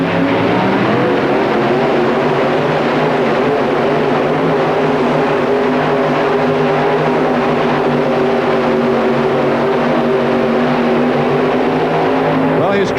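A 4WD pulling truck called the Wild Hare runs at a 1991 truck pull in the Pontiac Silverdome, Michigan, its engine roaring loud and sustained with a steady droning tone throughout, while an announcer talks over it.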